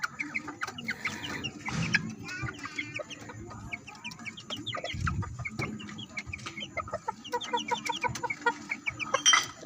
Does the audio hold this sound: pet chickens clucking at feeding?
yes